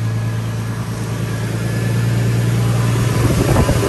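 A Lexus car runs with its cooling fans on, giving a loud, steady whirring hum with a constant low drone that swells slightly near the end, heard close without speech.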